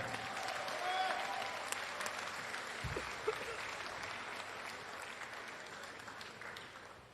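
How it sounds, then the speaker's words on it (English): Applause from a ringside crowd at a live MMA cage fighting event, steady and continuous for the whole stretch, fairly distant and moderately loud, with faint voices mixed in beneath it. "Again, give them a round of applause, everyone."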